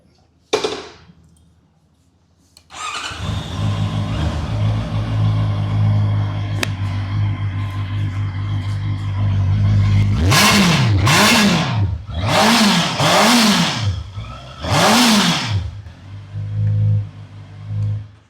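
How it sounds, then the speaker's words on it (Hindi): A 2025 Honda CBR 650R E-Clutch inline four-cylinder motorcycle starts up, settles into a steady idle, then gets a series of about five sharp throttle blips rising and falling, close and loud. "अब मैं आपको इसके इनलाइन 4 सिलेंडर का साउंड सुनाता हूँ।"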